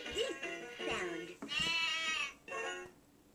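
Sheep bleats from a baby matching game sound out as a few wavering, nasal cries in a row, loud and close, with short gaps between them.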